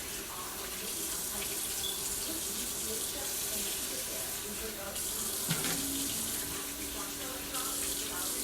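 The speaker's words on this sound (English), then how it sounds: "I'm gonna wash my hands again." A kitchen tap runs steadily for hand washing, a constant close hiss of water with small splashing changes midway and no talking.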